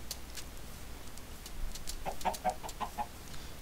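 Chickens clucking in a survival video game, a few soft, quick clucks close by, coming in a short burst after a quiet stretch of ambient background.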